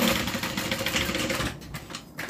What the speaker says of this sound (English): I'm just going to stitch right along the edge